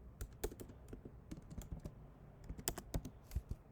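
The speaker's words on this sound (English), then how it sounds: "Let's see if I can type this up." Typing on a computer keyboard during spreadsheet work, a quick irregular run of close, light key clicks with brief pauses and no talking.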